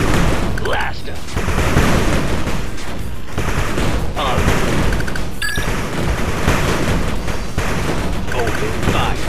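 Dense gunfire and explosions from an 8-Bit Armies real-time strategy battle, with overlapping shots and booms running continuously and loudly through the whole stretch, with game voice lines mixed in.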